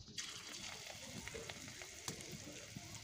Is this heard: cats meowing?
no